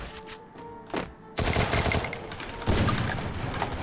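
Gunfire in a fast-paced online shooter, with a few scattered shots followed by dense bursts of automatic fire that rise in intensity toward the end.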